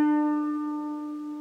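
A single plucked harp string tuned to D rings out clearly and alone, its bright tone with overtones slowly decaying over a second and a half.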